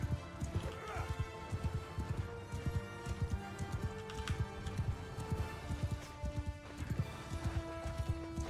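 Horse hoofbeats in the medieval combat game Mount & Blade 2 Bannerlord drum in a steady galloping rhythm, close and moderately loud, over a busy game soundscape with music.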